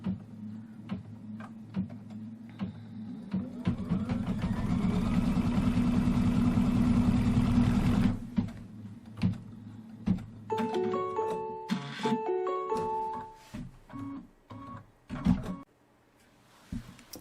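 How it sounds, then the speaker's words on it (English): Embroidery machine stitching a line through two layers of quilt fabric held in a hoop, a steady mechanical whir that builds and runs for several seconds, then gives way to quieter clicks and beeping tones. "Now it's going to stitch a line."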